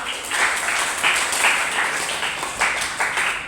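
Audience applause for a group's answer during a classroom discussion session, a steady wash of many hands clapping at moderate level for a few seconds with no talk over it.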